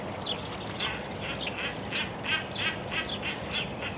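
Black-necked swans at a zoo give a repeated series of short honking calls, about one every half second, at moderate distance over steady outdoor background noise.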